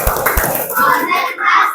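Schoolchildren in a fourth-grade classroom perform the tepuk konsentrasi concentration clapping game, with a few sharp rhythmic claps up close followed by kids chanting together loudly.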